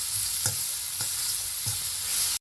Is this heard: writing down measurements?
no